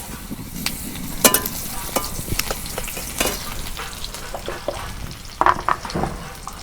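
Garlic sizzling in hot oil in a pan, a continuous crackling fry with sharp spits and pops, interrupted by scraping stirs of a utensil.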